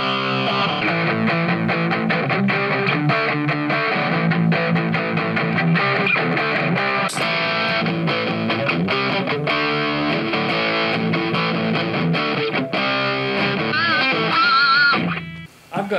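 A heavily distorted electric guitar plays sustained, crunchy chords at steady loudness, then cuts off abruptly near the end.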